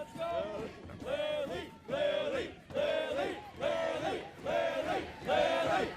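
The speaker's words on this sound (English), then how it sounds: "They're cheering for you?" At a live streamer game of Simon Says, a crowd chants and cheers in six rhythmic, evenly spaced bursts that rise and fall like repeated shouted calls, fairly loud and close.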